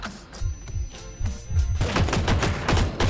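Rapid automatic gunfire in a comedic war skit, loud and close, with bursts of shots in quick succession that grow denser and more sustained toward the end.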